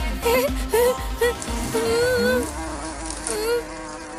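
Cartoon bees buzzing on a solar farm, a loud droning hum with wavering, swooping pitch in several bursts, layered over background music and effects.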